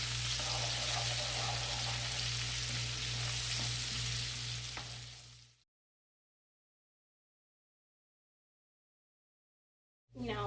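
Vegetables sautéing in bacon fat, a close, steady sizzle with a low hum that runs for about five seconds, cuts to near silence, then returns briefly at the end.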